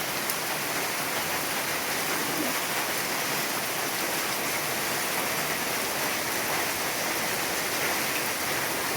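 Heavy rain pours down on a rural route near Garut, a dense, constant roar of water filling the whole stretch without a break.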